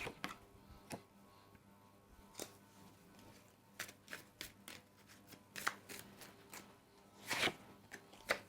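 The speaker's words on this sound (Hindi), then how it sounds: "और पांच कार्ड्स निकालते हैं हम इसके" Tarot cards being drawn and shuffled by hand, with irregular crisp riffles, flicks and soft slaps of card stock. The bursts come in quick uneven clusters and are close and fairly quiet.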